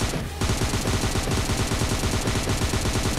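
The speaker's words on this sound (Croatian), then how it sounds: "Ovaj put je direkt u glavu pucam." Rapid automatic gunfire from PUBG Mobile LITE, a loud, continuous stream of shots with a steady rhythm that runs almost the whole time after a brief opening pause.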